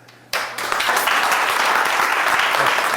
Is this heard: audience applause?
yes